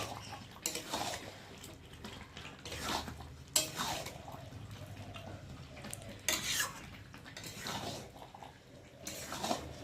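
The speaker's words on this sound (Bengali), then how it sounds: "মশলা দিয়ে একটু ভালো করে নেড়ে নেব।" A spoon stirs meat coated in meat masala and a little sugar in a pan, scraping in irregular strokes over a low sizzle, fairly quiet and without speech.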